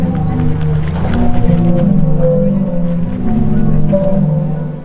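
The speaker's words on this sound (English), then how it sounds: "the sea organ never sounds exactly the same twice" The sea organ in Croatia, played by waves: deep, breathy organ-like tones swell and shift continuously, layered sustained pitches rising and falling as water surges, loud and close.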